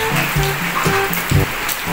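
Steady rain falling outdoors near a roadside stall, a continuous broadband patter at moderate level with some low thumps and faint voices in the background.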